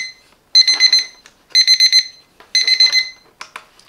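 An AURIOL digital alarm clock with a Qi wireless charging base rings its third alarm: three loud, close bursts of rapid high electronic beeping about a second apart, then a fainter short chirp, with no talking.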